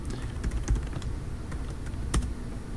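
Typing on a computer keyboard to enter a folder name for a DOS game on Linux, a quick run of soft key clicks over a steady low hum, close and with no speech.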